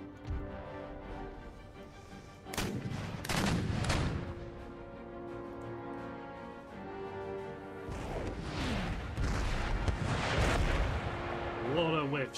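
Howitzer artillery fire in Empire: Total War, a few heavy booming blasts spaced seconds apart over a steady battlefield ambience and background music, with someone talking at times.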